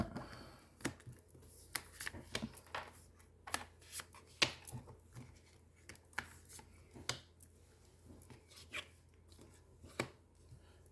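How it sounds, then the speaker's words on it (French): Tarot cards being picked up and shuffled by hand, a soft run of quick riffling and slapping card sounds spread across the stretch, fairly quiet and close with no talking. "On prend nos 3 cartes."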